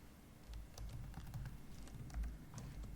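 Soft, quiet clicking of keys on a computer keyboard while typing code in Visual Studio, a quick irregular patter close by with no speech.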